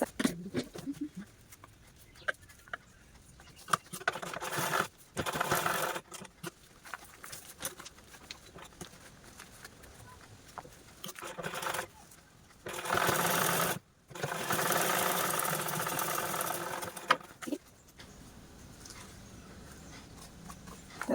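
A sewing machine stitches a cloth handbag in bursts of rapid mechanical whirring that start and stop several times. Some runs are short and others last a few seconds, with quiet handling noises in the pauses.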